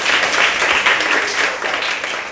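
Schoolchildren in a third-grade classroom clapping for themselves, a steady burst of many small hands close by, fairly loud and unbroken for a couple of seconds.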